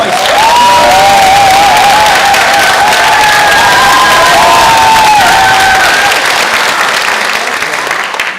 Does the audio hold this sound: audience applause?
yes